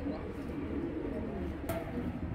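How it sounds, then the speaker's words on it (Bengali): Male pigeons coo softly in low, murmuring throaty rolls, faint and somewhat muffled against a dull background hum. "দুইটাই কিন্তু নর কবুতর ভাই"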